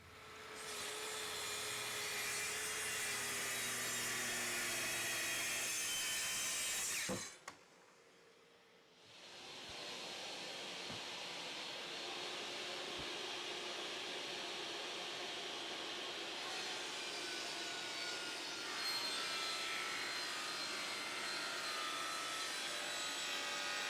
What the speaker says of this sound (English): First thing we do, obviously, is cut down the plywood.